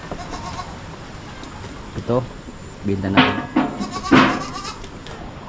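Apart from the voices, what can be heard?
goat bleating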